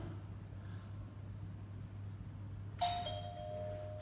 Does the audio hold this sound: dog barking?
no